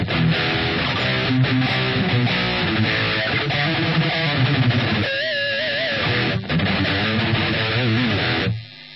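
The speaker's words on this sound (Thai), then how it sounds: "ผมใช้จำลองเป็นแอมป์เมซ่าบูจี้นะครับตัวบิดก่อนนะครับ" A Steinberger Synapse SS-2F electric guitar played through a simulated Mesa Boogie amp with distortion, giving a loud, driven run of riffs and chords that ends in a brief pause and a final cutoff.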